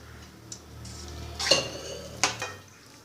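A metal spoon scraping and clinking against a pot as rice is stirred into kuzhambu, a few sharp clinks over soft stirring, close and alone.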